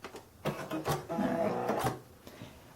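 A Babylock Sophia 2 sewing machine runs a plain straight stitch at full speed, giving a close, rapid mechanical whirring chatter that builds over about a second and then stops, with faint handling clicks before and after.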